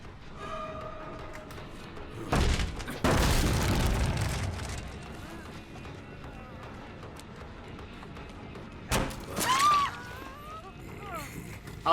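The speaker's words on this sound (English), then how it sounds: "Oh, that was a really good flashbang" A flashbang goes off in the game Dead by Daylight: two sharp, loud bursts close together, the second longer with a decaying rumble, over steady game ambience, with a shorter burst later and a player talking throughout.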